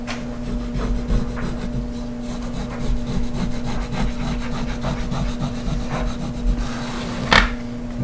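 Steady rubbing and scrubbing strokes as a cloth or sponge wipes grout residue off a kitchen floor's tile surface, close and continuous with rhythmic swishes, alone without talk.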